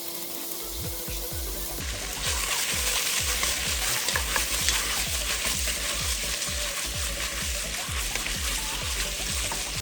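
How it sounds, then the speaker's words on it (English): A pound of bacon frying in a pan until crisp, a steady loud sizzle and crackle with rhythmic scraping or stirring strokes beneath it. "the bacon's cooking right now"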